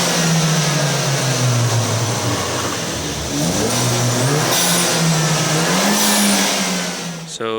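Turbocharged BMW 1 Series engine fitted with a DV Plus diverter valve, revving up and down repeatedly, the pitch rising and falling in a steady loud drone heard close by, with a brief sharp release at the end.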